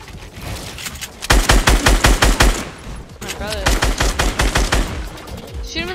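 Rapid bursts of close, loud automatic gunfire in a Fortnite Battle Royale match, two long rhythmic volleys separated by a short pause, then a few sharp metallic game sounds at the end.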